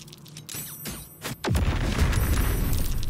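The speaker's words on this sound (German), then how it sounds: "Die explodieren!" Explosion in Baldur's Gate 3 erupts after a few soft thuds, a deep heavy boom followed by sustained loud rumbling debris roar, no talking.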